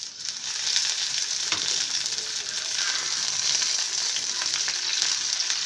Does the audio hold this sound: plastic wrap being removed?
no